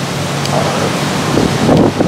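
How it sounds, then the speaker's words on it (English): Steady roaring wind buffets the microphone throughout, with louder rumbling gusts toward the end and no voices. "I feel like I need to go back in there because it's so windy."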